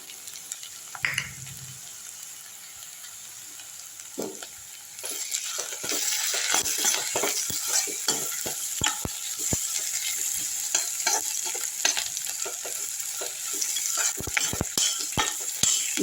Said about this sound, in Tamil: நல்லா வதக்கி விட்டுருங்க கருவேப்பிலை போட்டுப்போம்